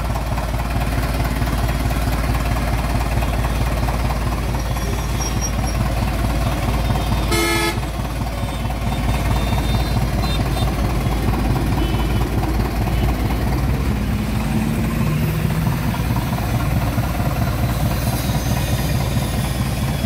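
A 2017 Tata 709 truck with a 17-foot body idles steadily with a constant low rumble throughout, close and loud, with a brief higher-pitched tone cutting in near the middle.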